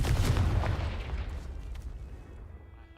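A Confringo fire spell in the video game Hogwarts Legacy bursts with a loud explosive boom at the start, its rumbling tail decaying steadily over about three seconds.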